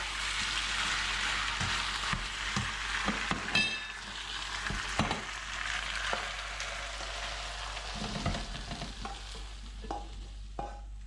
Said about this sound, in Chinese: 放入我们事先准备好的这个彩椒， 迅速翻炒一下就起锅了。